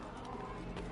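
Horse hooves clip-clop steadily in the Assassin's Creed video game, a brief run of close, even footfalls over a continuous game background with no talk.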